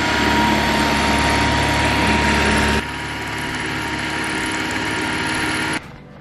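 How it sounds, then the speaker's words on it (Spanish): A steady high-pitched electric drill whine runs continuously while drilling a hole to install a pool clothesline, dropping in pitch partway through before cutting off near the end. "Hay que asegurarse que esté en la función de taladro"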